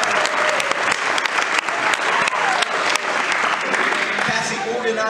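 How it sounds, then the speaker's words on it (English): Sustained applause from an audience at a gathering, dense and steady clapping throughout with a few louder claps standing out, under which voices can be heard. "Give her a round of applause."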